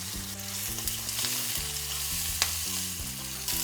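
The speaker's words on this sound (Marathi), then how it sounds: "मोहरी आणि जिरे आपले होत आलेत आपण याच्यामध्ये कांदा मिरच्या घालून घेऊयात" Onion and green chillies frying in oil with popping mustard seeds and cumin, a steady close sizzle with intermittent spatula scrapes and stirring clicks, no voices.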